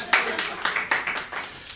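Audience clapping at a poetry recital comes in a short, rhythmic burst, with about seven distinct, fairly close claps at an even pace.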